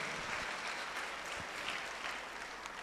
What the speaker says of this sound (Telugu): ఎంతమందికి సంతోషంగా ఉన్న వాళ్ళు గట్టిగా చప్పట్లు కొట్టండి